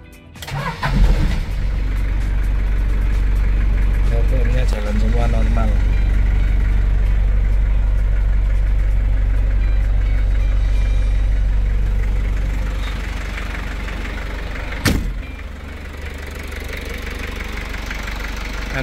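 A 1984 Daihatsu Taft 4x4 engine running nearby, a loud steady low rumbling idle that drops in level about two-thirds through, with a sharp knock near the end and people talking.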